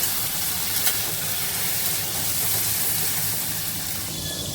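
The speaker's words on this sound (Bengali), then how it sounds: "এখানে ক্যাপসিকাম আর টমেটোটা ভাজা হচ্ছে" Capsicum and tomato fry in hot oil with chili and ginger paste, giving a steady, close, even sizzle that crackles continuously with no talking.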